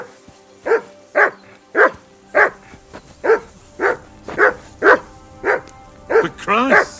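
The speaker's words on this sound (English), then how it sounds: "I assume you can hear that damn dog of yours barking." Dog in Kingdom Come Deliverance 2 barking steadily and loudly, about a dozen sharp barks at a regular pace, ending in a higher yelping whine.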